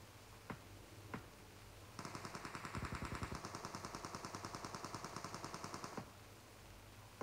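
Sustained automatic machine gun fire in the mobile game PUBG Mobile: a rapid, evenly spaced burst of loud shots lasting about four seconds, preceded and followed by a couple of isolated single shots.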